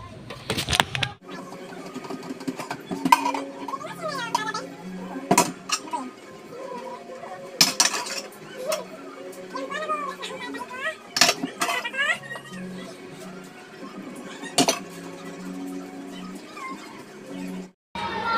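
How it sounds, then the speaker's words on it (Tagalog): Used dishes, pots and utensils are washed by hand after a fried chicken meal, with close clinks and clatters of plates and cutlery and bursts of running water, while a person talks in between. "maglilinis muna ako sa mga pinagamitan ko"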